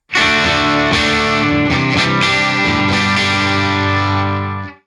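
An Epiphone Casino semi-hollow guitar with two humbuckers rings out through a Universal Audio Ruby pedal with small-room reverb, a loud, sustained, overdriven chord phrase with a few picked accents that fades at the end.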